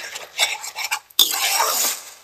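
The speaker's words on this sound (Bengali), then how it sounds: "এই মশলাগুলো কিন্তু ভালোভাবে কিন্তু আমাদের কষিয়ে নিতে হবে" A spoon stirs spice masala of ginger and garlic paste in a pan for a wedding-style chicken roast, giving a steady scraping clatter with a brief pause midway, close and loud with no talk.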